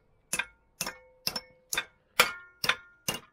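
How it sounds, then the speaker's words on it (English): Seven sharp metallic clangs from a hammer striking metal, evenly spaced about half a second apart, each ringing briefly before fading. "He's got his hammer out again."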